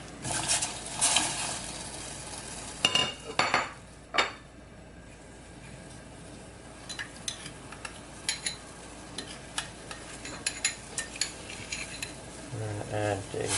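Vegetables are tipped into a pot of Thai Tom Yum Goong soup and stirred: a few sharp clatters early on, then lighter, steady scraping and knocking, with a brief faint voice near the end.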